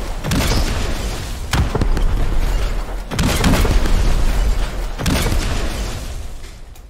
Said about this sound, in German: weil die Tanke gerade explodiert